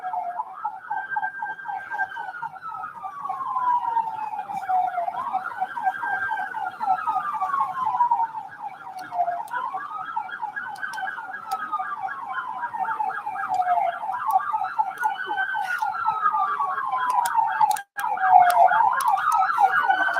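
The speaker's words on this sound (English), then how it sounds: "only hearing back the sirens already." Emergency sirens in the street at Calabash Alley town square on Independence Day, rising and falling in slow, regular sweeps, steady and fairly loud with little else around.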